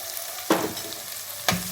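Chopped onions frying in butter and oil for pav bhaji, a soft continuous sizzle with two sharp stirring scrapes, close and fairly quiet, no voices.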